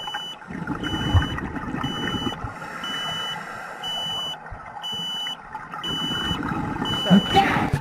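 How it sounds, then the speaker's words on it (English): A dive computer beeps underwater in a regular repeating pattern of short high tones, heard over bubbling breath noise and muffled diver sounds during an open water dive. "What's that beeping for?"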